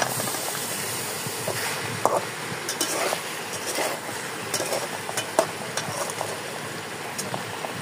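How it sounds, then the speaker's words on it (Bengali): Mourala fish and spices are stir-fried in a pan, with a continuous close sizzle and hiss and frequent scraping taps as the mixture is turned over. "এতে খুব ভালো মতো একসাথে সব নাড়িয়ে ভেজে নেব"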